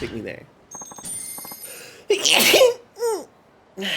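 One sharp, close sneeze bursts out among video game sounds and chimes, with a person talking before and after it.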